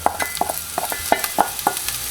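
Leeks, garlic and onions sizzle in a hot pan for minestrone with a constant crackling hiss, while a utensil scrapes and taps in a loose, repeated rhythm.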